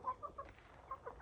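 Chickens in a small backyard coop give quiet, scattered clucks, a few short calls spaced apart and faint, with no talking.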